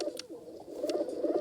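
Pigeons cooing in a pigeon video game, a soft, steady low murmur of coos that continues through the short stretch, alone with no talk.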